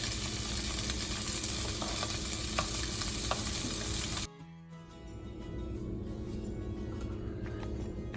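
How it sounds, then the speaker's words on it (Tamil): Paneer cubes fry in butter in a pan with a dense, steady sizzle that cuts out abruptly midway, then resumes as a quieter, softer crackle. "ஒரு 1/2 ஸ்பூன் பட்டர் போட்டுட்டு இந்த பன்னீரெல்லாம் வந்து நல்லா ஃப்ரை பண்ணி எடுத்துக்கலாம்"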